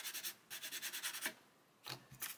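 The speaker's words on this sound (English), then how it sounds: "this is an Infini Zebra Stick 150. You could just come in and use the, I'm not sanding it flat, I'm using the corner of the stick" Sanding a plastic model kit part, a 1/16 StuG III Ausf G, using the corner of an Infini Zebra Stick 150: close, steady back-and-forth rasping strokes in a quick rhythm, a pause, then a few more strokes.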